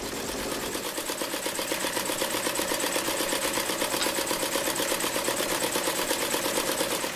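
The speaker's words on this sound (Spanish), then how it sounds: "Es el sonido de una máquina de coser" A sewing machine runs steadily in a clothing workshop, its needle chattering in a fast, even rhythm close by and fairly loud for the whole stretch, with no voices over it.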